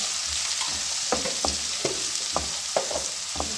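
Chicken macaroni frying in a pan as turmeric, salt and red chili are stirred in, a steady close sizzle broken by repeated scraping strokes of a spoon against the pan.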